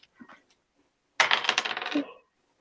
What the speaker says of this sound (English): Oh wait, I'll roll dice.